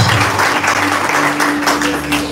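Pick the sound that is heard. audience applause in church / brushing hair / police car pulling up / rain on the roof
audience applause in church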